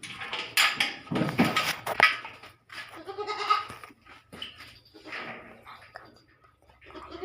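Week-old goat kids, a pair of newborns in a small farm herd of eight, bleat in short, fairly close calls repeated through the stretch, mixed with some nearby voices and movement.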